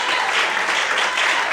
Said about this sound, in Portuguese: Então aplauda o Senhor bem forte